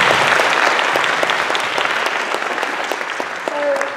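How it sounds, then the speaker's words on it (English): Audience applause at a youth leadership program discussion, loud, dense clapping from a crowd that gradually thins and softens, with a faint tone or voice near the end. "So please give Serge a round of applause."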